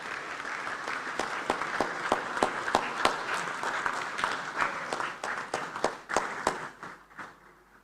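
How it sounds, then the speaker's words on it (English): A conference audience at the 4th African Inter-Parliamentary Conference gives a steady round of applause, dense clapping that fills the hall for several seconds before thinning out toward the end. "Please, a round of applause for her."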